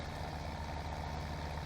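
A steady, even drone from a tractor engine in the Farming Simulator 17 game, running low and continuous through the brief stretch with no speech over it.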